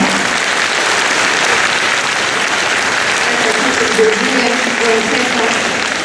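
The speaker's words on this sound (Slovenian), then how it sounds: "vas prosim za en velik, največji aplavz" Sustained audience applause at a Slovenian crepe-paper flower exhibition in Vransko, a dense, steady clapping that fills the whole stretch evenly with no break.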